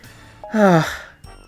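A cartoon character from Hey Arnold breathing heavily: a short, faint voiced breathy exhale with a wheezy moaning tone, followed by a brief second intake, with nothing else around it.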